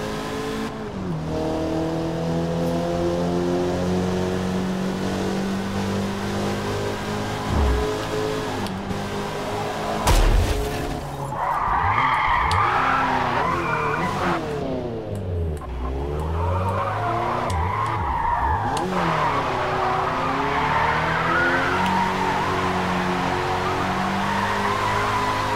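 Video-game Mazda Miata from Forza Motorsport doing a burnout: a steady engine drone builds into hard revving with long screeching tire squeal that rises and falls in sweeping swells over about twenty-five seconds, loud and with no talk.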